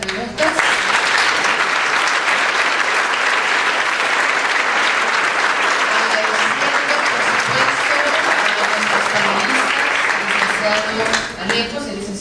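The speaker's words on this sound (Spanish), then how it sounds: "Vamos a terminar, ¿por qué no con un aplauso esta ronda de preguntas?" Sustained, loud audience applause fills a hall at a public forum on the power of Congress, closing a round of audience questions; the clapping stays dense and even for about eleven seconds before tapering off.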